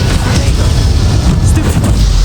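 Confringo blasting spell exploding in Hogwarts Legacy, a loud, sustained booming blast with heavy low rumble and crackling debris filling the whole moment.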